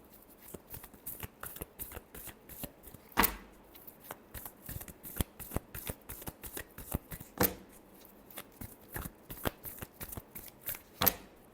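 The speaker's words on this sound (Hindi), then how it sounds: "Last shuffle." Playing cards shuffled by hand at close range, a quiet run of rapid riffling flicks with several sharper, louder bursts and no voices.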